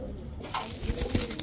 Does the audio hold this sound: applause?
no